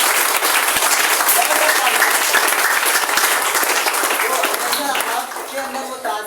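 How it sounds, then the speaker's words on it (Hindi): Loud, close applause fills a hall as an audience welcomes chief guests at a business gathering, steady dense clapping that eases slightly near the end while voices begin to rise beneath it. "एक जोरदार तालियां"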